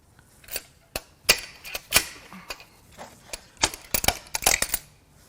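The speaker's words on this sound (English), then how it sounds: "let's go ahead and knock these injectors out. So this tool works kind of like a mini slide hammer." Sharp metallic knocks from a mini slide hammer pulling fuel injectors out of a BMW N20 engine, irregular single and clustered impacts, close and crisp with quiet gaps between.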